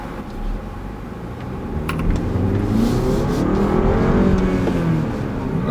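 A 2018 BMW X3 xDrive 30i in sport mode accelerates from inside the cabin, its engine note rising through a gear change and then climbing again, moderately loud, with a few small clicks near the start.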